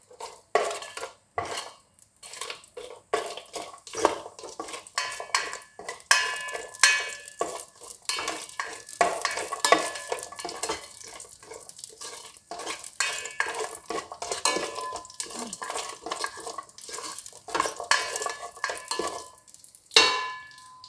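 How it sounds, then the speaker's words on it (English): A ladle stirs food through melted ghee in a pot, giving continuous busy scraping and clinking against the metal with a faint sizzle beneath, close and fairly loud throughout. "the ghee has melted down. So let's stir them."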